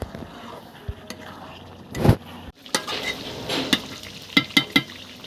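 Spoon clatters and scrapes against a pan while a homemade roast is stirred and fried, with a few sharp metallic clinks and soft sizzling between them at close range.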